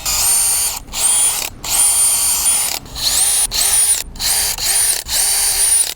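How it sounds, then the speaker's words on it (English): A power drill bores screw pilot holes in wood for a picnic table repair, whining loudly in repeated bursts of about a second each, separated by short pauses, close by with no talking. "use it as my pilot hole guides so that I can drill in the exact location where the screws need to go"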